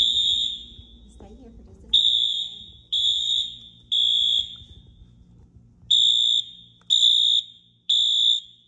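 Elementary school fire alarm during a fire drill, a piercing electronic tone sounding in repeated one-second bursts with short gaps, loud and close, while people's voices murmur underneath at the start.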